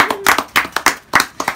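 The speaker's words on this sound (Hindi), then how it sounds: "तालियां तालियां तालियां" People clap hands in a quick burst of about eight loud, close, sharp claps in an uneven rhythm at a family gathering for a newborn, with no talk over them.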